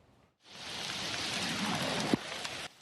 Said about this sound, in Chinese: 因为山区落大雨